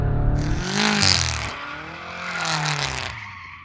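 A car's tyres squeal in long, wavering skids as the engine revs rise and fall, loud and close, swelling twice over a few seconds.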